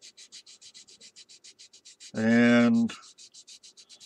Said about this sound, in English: you just lightly sand the whole area.